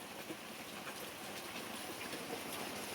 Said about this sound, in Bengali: আধ ঘন্টা ধরে বৃষ্টি হচ্ছে, কুলকুল কুলকুল করে। বৃষ্টি থামার নাম নেই।